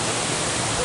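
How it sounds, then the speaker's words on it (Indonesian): The three-tiered Baruttung Golla waterfall gives a loud, dense, steady rush of falling water, heard close and unbroken over a brief moment. "Air terjunnya bertingkat, guys."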